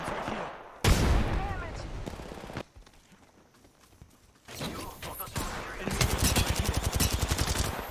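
Gunfire in an Apex Legends Arenas match: a loud blast near the start, a quieter stretch, then rapid automatic fire that builds into a dense, close, rattling burst near the end.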